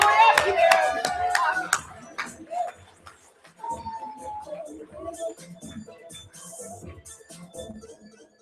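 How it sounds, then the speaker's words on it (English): An audience at a high school poetry slam claps as a poet walks to the stage, a scattered round of applause that fades into shuffling, with voices speaking over it. "We're gonna clap until he's all the way up here."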